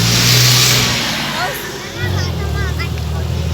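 A bus pulls up at a stop, its loud engine rumbling and revving close by, with a hiss of air brakes and a shift in engine tone as it slows, while people nearby talk over it.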